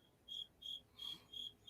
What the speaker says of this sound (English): You get that crickets loud behind you there.